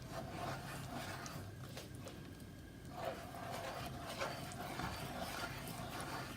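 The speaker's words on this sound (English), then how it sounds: "Just keep stirring it." Homemade play dough is stirred in a pan over low heat, giving close, continuous scraping and rubbing sounds in an irregular rhythm, fairly faint and without talk.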